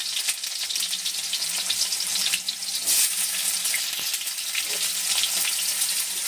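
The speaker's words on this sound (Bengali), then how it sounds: "পেঁয়াজটা একটু ভেজে নেবো আগে একটু হালকা করে" Chopped onion pieces sizzle steadily in hot oil in a pan for a Bengali mixed-vegetable chicken curry, a dense continuous crackle with occasional louder pops, close and fairly loud, with no talking.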